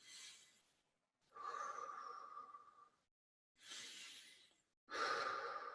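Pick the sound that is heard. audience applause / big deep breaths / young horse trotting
big deep breaths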